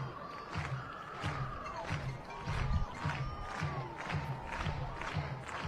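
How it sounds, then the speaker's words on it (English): Crowd at a college softball game between Oklahoma and Baylor cheering and chanting in a rhythmic, repeated pattern with regular thumping beats, a loud, sustained stadium roar. "The crowd in a frenzy early on here."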